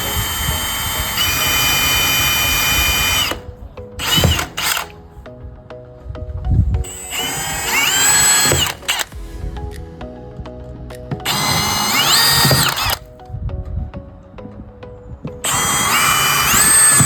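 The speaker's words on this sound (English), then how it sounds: "So we're going to go ahead and drill our holes." A power drill whines in several long bursts, spinning up and biting into material while drilling mounting holes for a bracket, with short pauses and handling clatter between runs.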